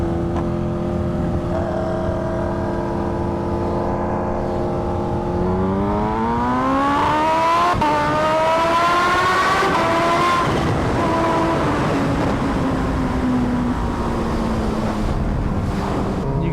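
A Yamaha R1M and a Kawasaki Ninja H2 rev in a tunnel, their engines droning loudly and steadily. The pitch climbs in a long rising sweep, then eases back down, and the sound echoes with no talking.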